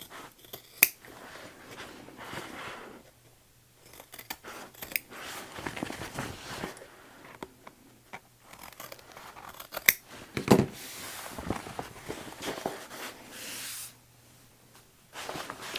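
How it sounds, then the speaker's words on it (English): Scissors snip close by as the boxed corners of sewn fabric are trimmed, with short crisp cuts coming in scattered clusters and brief pauses, and no talk. "I'm just going to go ahead and trim this up a little bit"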